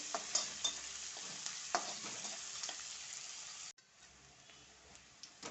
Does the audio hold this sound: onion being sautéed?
yes